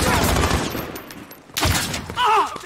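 Gunfire in Call of Duty: Modern Warfare, with bursts of game weapon shots and loud impacts near the start and again midway, followed by a high whistling effect, with a voice talking briefly over the action.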